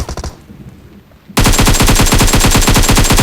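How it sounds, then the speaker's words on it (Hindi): Sustained rapid automatic gunfire from PUBG Mobile gameplay bursts in loud and close after a brief quieter stretch, continuing as a dense, steady volley with no talk. "तो उधर से मुझे गोलियाँ आई"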